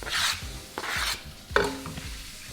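Onions frying in oil in a pan, with a soft sizzle under a few scraping stirs of a utensil against the pan, close and quiet, with no talk.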